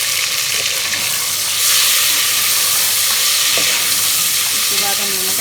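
Tomatoes fry in hot oil with ginger, garlic and onion, giving a steady close sizzle with occasional stirring scrapes and no talking.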